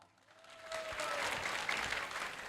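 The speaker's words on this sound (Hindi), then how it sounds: "तालियों की गूंज में इनका इस्तकबाल कीजिए" Audience applause welcomes poet Shahid Bilal at a mushaira in Sargodha, a dense, steady clapping that swells after a quiet start and holds loud to the end with no voices over it.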